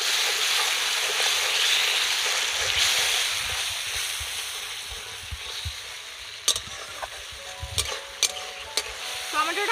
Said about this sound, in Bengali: টমেটোটা কিন্তু ভালো করে ভেজে নিতে হবে